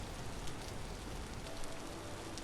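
Steady rain in the video game Vintage Story patters continuously as a dense, even hiss of drops on surfaces, fairly soft, with no voices over it.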